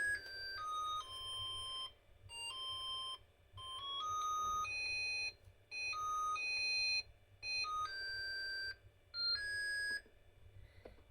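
A digital timer plays its alarm melody as repeating bursts of bright electronic beeping tones, each phrase stepping through pitches and separated by short pauses, close and clear with no talk.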